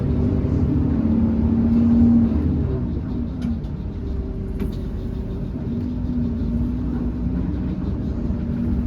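Steady low engine drone and road rumble inside a moving Jetbus 3 SHD coach powered by a Hino RK8 R26 engine, a constant hum with a brief tonal whine early on and faint rattles, no talking.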